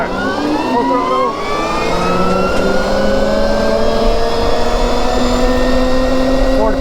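An electric dirt bike, the Dirt Goat, speeds up at full throttle with a loud, steady whine that climbs in pitch as it gains speed, mixed with strong wind rush. The sound runs continuously throughout.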